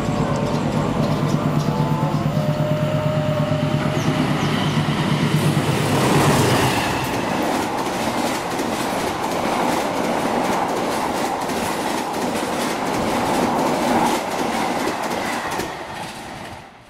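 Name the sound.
passing train hauled by locomotive CC2061312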